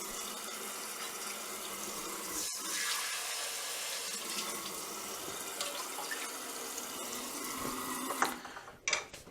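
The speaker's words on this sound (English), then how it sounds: "we need to add some water to the bottom of the air fryer" A steady stream of water pouring and splashing into the bottom of an air fryer, continuous for several seconds, ending with a couple of clunks.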